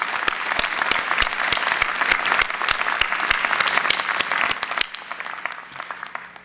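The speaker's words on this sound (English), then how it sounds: "you deserve a round of applause" Audience at a university convocation ceremony gives a round of applause, dense, even clapping that holds for several seconds before thinning and fading out.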